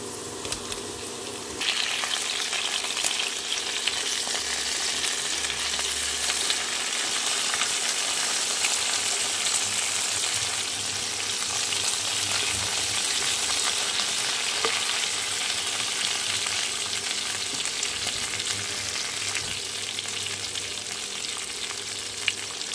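Cut raw green banana drops into hot oil with already frying potatoes, and a sharp rise in sizzle settles into a continuous, even crackle with occasional light stirring clicks.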